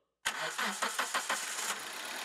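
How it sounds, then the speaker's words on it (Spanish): A car engine cranks briefly with a few rapid chugs, catches within a second and settles into a steady idle, close and loud, with no voices. "arrancamos el motor"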